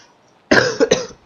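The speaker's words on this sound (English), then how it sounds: "Okay, got a little bit of cough still left in me." One person gives a short, close, loud burst of three coughs after a quiet moment.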